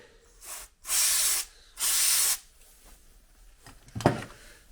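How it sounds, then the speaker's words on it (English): Two sustained bursts of electrical contact cleaner aerosol hissing close by in a Mazda MX-5 engine bay, each about a second long, followed by a few quieter taps and rustles. "Now let's give that a spray of electrical contact cleaner."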